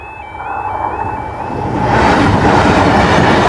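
A train rolls past a level crossing at close range, its rumble swelling louder, while a crossing alarm tone sounds steadily at the start.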